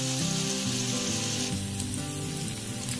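Onions fry in hot oil in a pan for bhindi masala, giving a continuous loud sizzle and crackle close to the microphone, with no talking.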